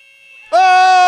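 A loud basketball game buzzer blares abruptly midway, a harsh sustained electronic tone held steadily for about half a second after a near-silent lead-in in an indoor arena.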